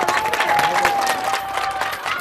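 Crowd applause and cheering at a hidden-camera street prank, with a steady wash of clapping across the whole stretch, fairly loud, a faint tonal whistle running through it and some voices mixed in.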